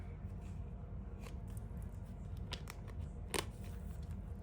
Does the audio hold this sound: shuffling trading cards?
yes